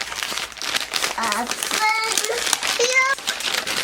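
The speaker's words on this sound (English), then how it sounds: "you're gonna have to open the paper" Paper is unfolded and crinkled while a child and an adult talk nearby, with rustling running steadily through the speech.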